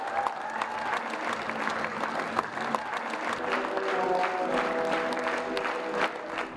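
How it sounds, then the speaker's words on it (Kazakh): Sustained applause from a theatre audience at a premiere performance in Almaty, steady and dense clapping filling the hall for several seconds, swelling slightly louder toward the end with a faint murmur of voices underneath. "Сахна шымылдығы жабылған соң да ұзақ қол шапалақтап қошемет көрсетті."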